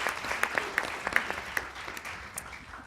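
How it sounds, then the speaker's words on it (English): Scattered audience clapping after a panel discussion, individual sharp claps standing out over a softer patter, moderately close and gradually tapering off. "please give a round of applause to Lynne Malcolm"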